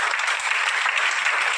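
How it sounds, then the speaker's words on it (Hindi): Applause rises from the audience to welcome a guest at an anti-drug awareness event at S.U. College in Hilsa. The clapping is dense and steady, with no voices over it. "आप लोग अपने तालियों से भी इनका स्वागत करें"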